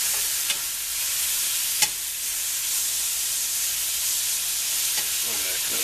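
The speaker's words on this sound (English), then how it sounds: "You want to char that sausage." Sausage fries and chars in a pan for red beans and rice, giving a steady, bright sizzle throughout with a few sharp clicks of stirring.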